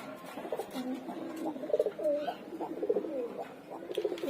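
A female pigeon coos softly and repeatedly in a loft, with several low, warbling calls rising and falling at close range and no talking.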